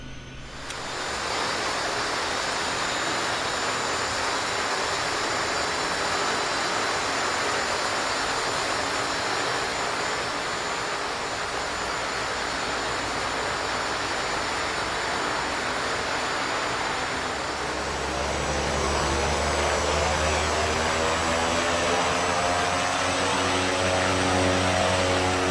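A Pilatus PC-6 turboprop engine settles into low idle in X-Plane 11, a loud, steady whine and roar that holds for the whole stretch, with a deeper throbbing tone joining in toward the end.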